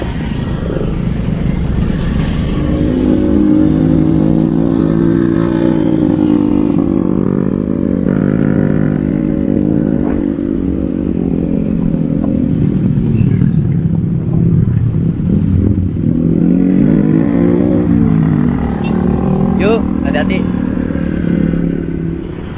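A rented motorbike straining uphill on the way to the Dieng Plateau near Wonosobo, its engine droning loud and labored throughout with shifting pitch, while a voice talks over it.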